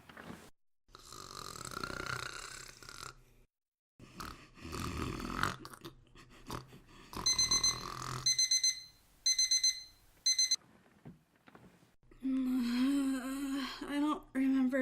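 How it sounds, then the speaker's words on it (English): An alarm clock rings in a bedroom in bursts of bright, repeating electronic tones, loud and close, broken by pauses, with snoring and rustling before it and a groggy low voice groaning at the end. "I don't remember setting an alarm"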